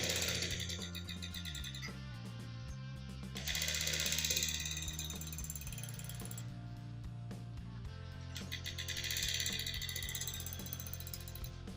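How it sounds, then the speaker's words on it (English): A sewing machine stitches a shirt sleeve with a continuous, even mechanical whirring and ticking that swells slightly twice, fairly quiet and with no voices. "I'm going to stitch it now."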